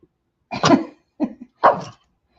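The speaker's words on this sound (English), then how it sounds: "This coughing that he's doing now is fake, just to get my attention" Pet dog giving three short, fake-sounding coughs in a quiet room, each a brief husky hack separated by pauses, close and fairly loud.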